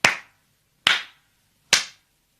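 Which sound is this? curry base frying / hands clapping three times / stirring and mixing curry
hands clapping three times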